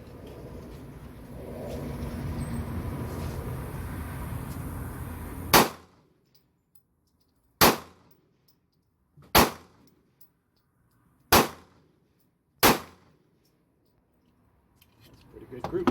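Five sharp, loud shots from a SIG P239 pistol fired at targets ring out one by one at an uneven, deliberate pace, with near silence between them after a stretch of talk.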